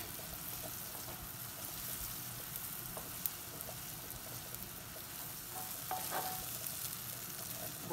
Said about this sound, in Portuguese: Agora eu vou colocar a ova da tainha que eu piquei.